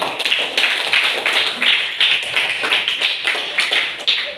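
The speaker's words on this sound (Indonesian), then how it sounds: "Tepuk tangan buat Cindo." A classroom of students claps together for a classmate, a dense, steady patter of many hands sustained for about four seconds with no talking over it.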